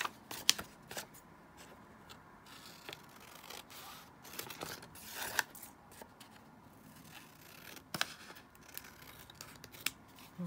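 Scissors snip through paper while a junk journal is trimmed, a few crisp, close cuts with light rustling between them, no talk.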